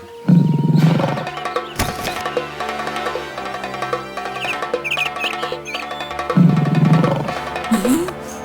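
A tiger roars in a Malayalam animated children's story about a pig and a tiger, with loud roars near the start and again near the end set over a busy musical score.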